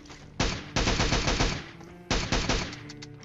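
Gunfire in the BGMI mobile battle royale game, two loud bursts of rapid automatic shots close up, the first longer, separated by a short pause.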